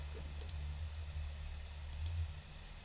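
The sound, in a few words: mouse clicks in image editing software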